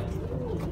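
A Sialkoti pigeon coos once, a low, soft, brief murmur heard close by over faint background noise.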